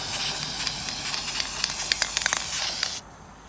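An aerosol spray paint can blasts a loud continuous hiss up close for about three seconds with small sputtering spits, then cuts off sharply, leaving quiet.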